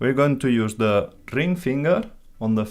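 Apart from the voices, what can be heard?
None of the usual background noises is heard.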